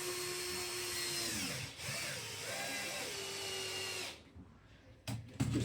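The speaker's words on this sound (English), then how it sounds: "Now all we're going to do is lightly screw these in." A power drill drives screws into a box sash window frame, whirring in two close, loud runs that strain and drop in pitch, followed by brief clunks and handling sounds.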